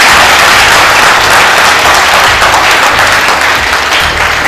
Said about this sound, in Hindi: तो ताली तो ठीक से बजाओ।